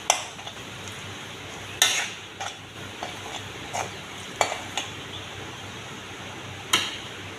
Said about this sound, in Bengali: ধনিয়ার গুঁড়ো দিয়ে দিলাম, এবার ভেজে নেব।